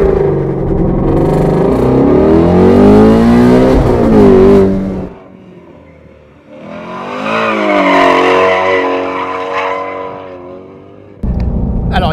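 A Ford Mustang Shelby GT350R roars loudly on a race track, its engine revving hard through rising pitches with a short lull between two long, close bursts of acceleration.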